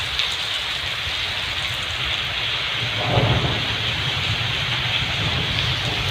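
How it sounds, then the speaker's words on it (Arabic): Thunder rumbling through a heavy rainstorm during flooding in Egypt, steady loud rain hiss throughout with a deeper roll of thunder swelling near the middle, no voices. "سامع صوت الرعد عامل ازاي."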